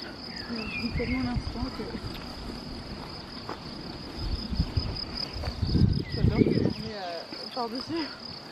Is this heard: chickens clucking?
no